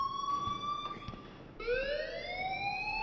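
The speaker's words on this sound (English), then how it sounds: "please turn off that alarm since that's your job" An alarm rings in the video game Life is Strange: a steady electronic siren tone with harmonics that shifts and rises partway through, continuous and fairly loud with no talk over it.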